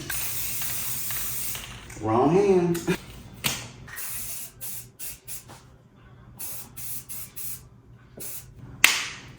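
Short hissing bursts of aerosol spray paint from a can while a mirror frame gets painted, with brief pauses between sprays and a person speaking now and then.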